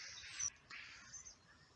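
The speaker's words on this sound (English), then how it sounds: "Hearing the birds" Birds singing outdoors on a pleasant day in open space: faint, thin chirps and calls over quiet ambient background, with no talk.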